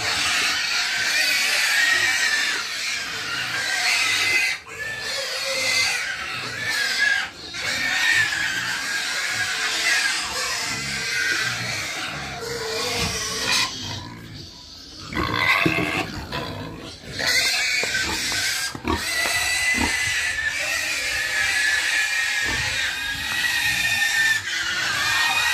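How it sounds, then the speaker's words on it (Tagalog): Pigs on a farm grunting and squealing while feeding and drinking, a dense continuous chorus of snorts and squeals from a close pen, with occasional louder outbursts. "Sobrang makaigit, makabrasat ang baboy."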